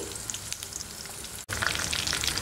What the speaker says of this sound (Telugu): కాస్త ఆవాలు, జీలకర్ర చిటపటలాడిన వెంటనే కాసిన పచ్చిమిర్చి, ఎండుమిర్చి చీల్చుకొని వేసుకోవాలి